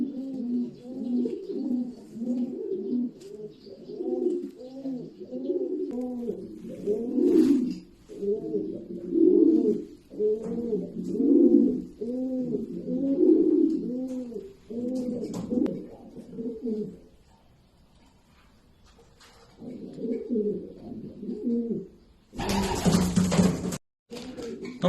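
Domestic pigeons coo continuously in soft, overlapping, rhythmic calls, close and steady, with a brief loud noise burst near the end.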